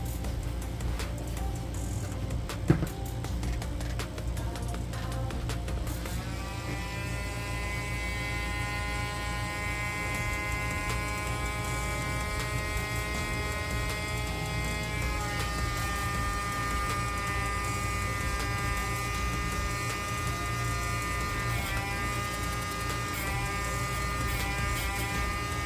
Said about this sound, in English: we're gonna take the Dremel and make some notches on these shocks